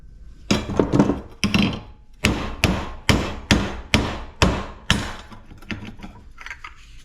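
Sharp hammer blows strike scrapped HVAC metal parts, about nine loud, ringing hits in uneven bursts with brief pauses between, close to the microphone.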